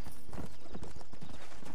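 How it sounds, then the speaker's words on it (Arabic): Rapid clip-clop of a zombie horse galloping in the video game Red Dead Redemption: Undead Nightmare, loud and close, with quick rhythmic hoofbeats over game background noise. "تعالي يا حصان الزومبي"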